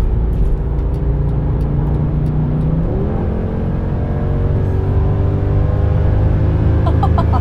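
A Mercedes car accelerating on a test drive, its engine a steady, loud, rising drone heard from inside the cabin, with one smooth shift in pitch partway through and a constant road rumble underneath.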